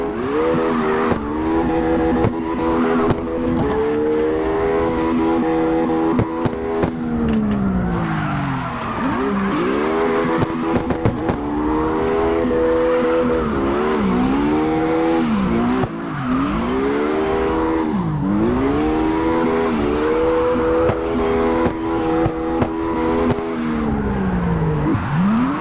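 A Nissan 370Z drifts around a track in CarX Drift Racing Online, its engine wailing loudly and continuously while tires squeal in long sustained screeches, with the revs repeatedly dipping and climbing through each slide.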